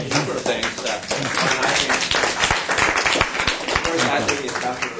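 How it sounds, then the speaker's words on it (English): Applause from a lecture audience at a university chair lecture, a dense, steady wash of many hands clapping that fills the whole stretch, with speech mixed in. "I think Dr. Chilton deserves a lot of applause for this thoughtful presentation"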